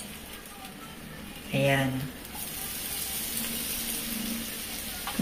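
Mushrooms tossed into a hot pan of shrimp and broccoli set off a brief loud sizzle, which then settles into a steady low frying hiss, with a short spoken word near the start.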